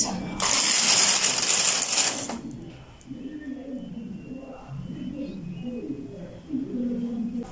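A knitting machine carriage is pushed across the needle bed while knitting a punch-card tuck stitch with a single thread, giving a loud clattering, ratcheting pass for about two seconds, then quieter mechanical shuffling and handling.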